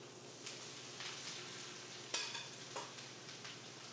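Onions sizzle and fry in very hot oil in a pan for steak fajitas, a steady soft crackle with occasional sharper pops and stirring scrapes, faint and close with no talking.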